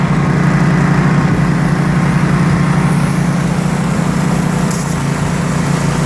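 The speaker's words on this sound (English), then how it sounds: "this plasma cutter makes life nice. And it's operating off of this generator right here." A generator runs loud and steady, powering a plasma cutter at a DIY forge build, its constant engine drone holding a strong low hum throughout with no pauses and no voices.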